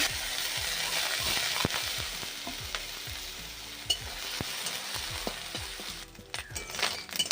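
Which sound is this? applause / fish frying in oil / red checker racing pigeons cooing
fish frying in oil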